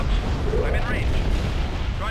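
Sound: ships firing weapons in Star Wars strategy video game

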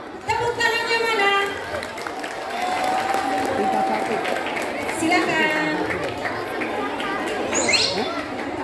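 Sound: children's audience applauding a dance performance

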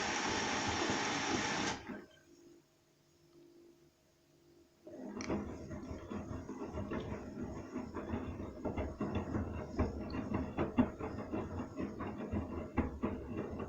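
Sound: washing machine drawing in detergent during a boil wash

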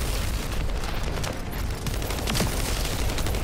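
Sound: gunfire in the video game The First Descendant

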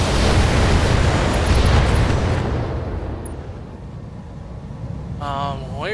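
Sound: weapons fire hitting an enemy in the BattleTech video game

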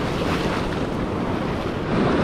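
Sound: calm ocean waves at El Cuco beach, El Salvador

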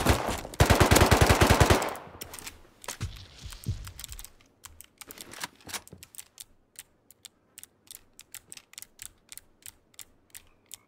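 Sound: gunfire shooting at zombies in a video game

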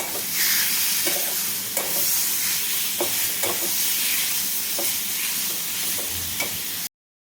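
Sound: marinated prawns added to pan and stirred, sizzling

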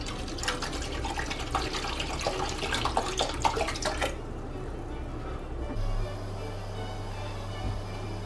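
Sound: pouring water and green tea for instant noodles

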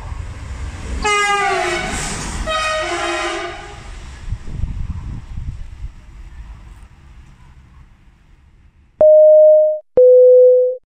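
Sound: train passing through station

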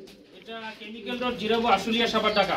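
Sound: pigeons cooing

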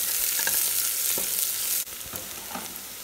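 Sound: ginger and garlic frying in a pan for brinji rice

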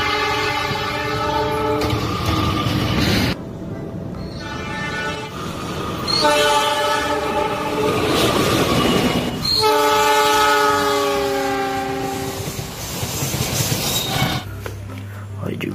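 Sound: commuter train from a video game

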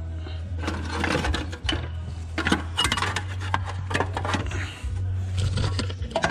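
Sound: removing heat shield bolt under a Duramax truck

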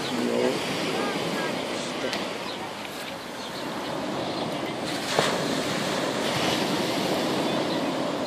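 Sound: sea waves at the shore in the evening

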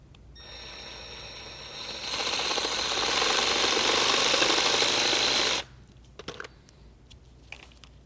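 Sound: cutting a notch into a pipe

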